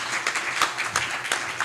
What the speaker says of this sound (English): Big round of applause back there.